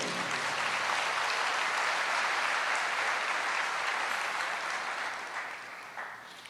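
A church congregation applauds in praise, a broad wash of many hands clapping at steady loudness before tapering off near the end.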